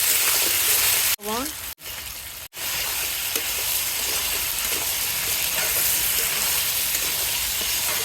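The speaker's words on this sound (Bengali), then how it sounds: "হলুদ লবণ দিয়ে এই আলুটা ভেজে নেব" Potatoes frying in oil with turmeric and salt give a loud, steady, close sizzle that cuts out briefly a few times near the start and then hisses on continuously.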